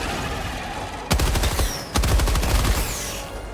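Two rapid full-auto machine gun bursts fire in Helldivers 2, each a loud, dense rattle of shots, the second starting right after the first stops and running to the end.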